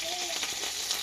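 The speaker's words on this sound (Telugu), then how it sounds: "మన పప్పు దినుసులు కూడా వేగినాయి కదా" Lentils and curry leaves crackle and sizzle steadily in hot oil as a tempering cooks, a dense, even frying hiss that stays moderate in level, with no voices.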